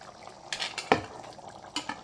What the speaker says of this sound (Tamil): இப்போ அரைச்சி வச்சுருக்க தேங்காய் விழுது இப்போ போட்டுக்கணும்.